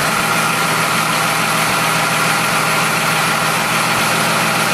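A Dodge Ram Cummins diesel idles in an unheated shop just after a cold start without grid heat, a steady loud low clatter and rumble running unchanged and close throughout.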